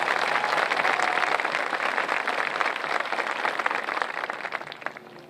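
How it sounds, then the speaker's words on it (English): Sustained applause from a large graduation audience honoring the student council, a steady dense clatter of many hands that slowly thins toward the end. "Can we get a round of applause for them?"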